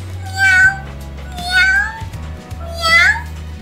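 A domestic cat gives three clear, drawn-out meows at an even pace, close and loud, over a low steady background hum.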